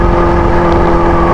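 Kawasaki H2 Carbon supercharged motorcycle engine revving under light throttle, a loud, steady close-up roar with dense rumble and whine running unbroken through the short stretch.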